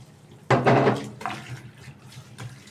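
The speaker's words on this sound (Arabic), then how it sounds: "هشطفها بس شطفه كده اهوت من مطرح تقطيعي فيها" Tap water runs and splashes over cut frozen okra being rinsed in a kitchen, a close gush starting abruptly and then continuing in uneven splashes, with no talking.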